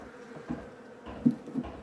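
Honeybees at a hive buzz faintly and close, in short uneven bursts of low droning hum with small peaks, no voices present.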